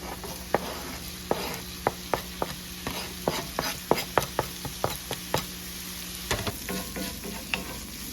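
Crumbled sausage with peppers and onions sizzles in a pan, a steady frying hiss broken by frequent sharp clacks of a utensil stirring and scraping, close and clear.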